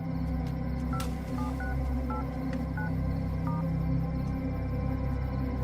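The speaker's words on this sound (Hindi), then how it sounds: "सर एक फोन कर सकता हूँ क्या, बस एक फोन कॉल।" A quick series of short electronic keypad tones, about eight beeps, dialing a number over a steady low background hum.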